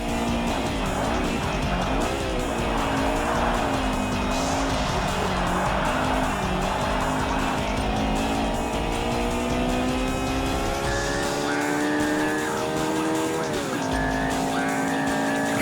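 The Aero Gear Integra race car in Forza Motorsport (2005) drives at full throttle, its engine droning and rising through gear changes while the tires squeal now and then, loud and continuous with no talking.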